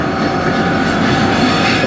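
A train runs past on a railway line near Lytham and St Annes, a loud, steady rumble of wheels on rails with a faint squeal, close by and continuous with no talk.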